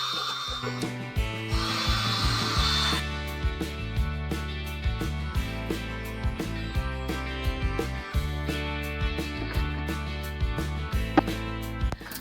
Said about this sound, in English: I use my electric drill to mix everything up.